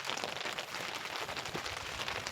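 Rain falls in a steady, faint hiss during heavy monsoon weather in Tharad, with no other sounds standing out.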